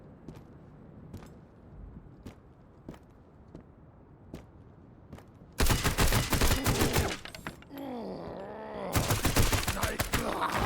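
Gunfire in the Road to Vostok shooter game, first a string of sharp, evenly spaced single shots, then loud, dense bursts of rapid fire with a brief pause between, close and harsh.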